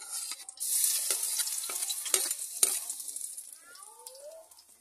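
Ginger and garlic frying in a pan for adobo, a steady moderate sizzle with scattered stirring scrapes and clacks, alone without talk.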